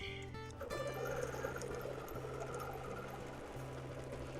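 A sewing machine stitches slowly along straight quilting lines, its motor humming steadily with a faint repetitive mechanical whir, close and fairly quiet, with no talk.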